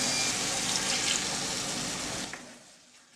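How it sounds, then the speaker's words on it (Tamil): Water is poured into a pan of sautéed tomatoes, a loud, close, steady rushing splash that gradually tapers off and fades out at the end, with no talking. "இப்போ கொஞ்சமாக தண்ணி ஊற்றுவோம்."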